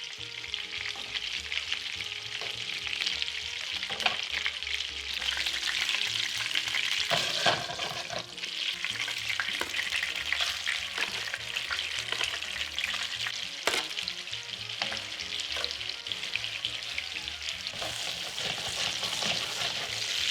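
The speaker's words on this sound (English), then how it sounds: "I'll remove them onto a plate and then sear the rest of the meatballs." Meatballs searing in a hot pan give a loud, continuous close-up sizzle and crackle with occasional stirring knocks, no voices heard.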